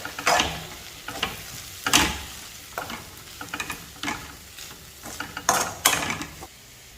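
Crab masala with spice powders is stirred in a hot pan, a soft, steady sizzle broken by repeated scraping strokes and clinks of the spoon against the pan, close and rhythmic.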